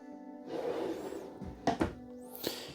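A full-extension ball-bearing drawer in a Forest River Hemisphere 369BL fifth-wheel RV slides open with a soft rolling rush, then closes with a couple of muted thunks and a final light knock.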